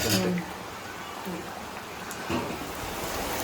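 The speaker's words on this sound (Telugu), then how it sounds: "వాన అయితే ఇంకా బాగా పెరిగిపోయి అసలు భయంకరంగా బాగా చేస్తుందండి" Heavy rain falls steadily in a constant hissing wash during a spell of prolonged downpour, with a person speaking over it.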